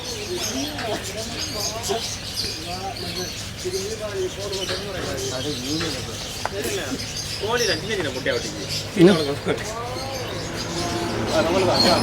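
Pigeons and other birds at a pigeon shop in Batticaloa, with soft warbling coos and chirps throughout while people talk nearby over a busy background.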